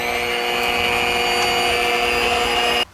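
An electric hand mixer beating butter for green tea levain cookies, running as a loud, steady motorized whine with a constant tone before cutting off abruptly just before the end.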